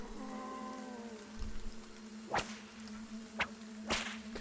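Several sharp whip cracks strike in the video game Battle Brothers, three distinct snapping lashes spaced about a second apart over a steady low game hum and fading musical tones.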